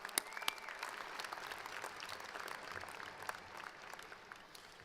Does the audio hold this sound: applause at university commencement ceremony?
yes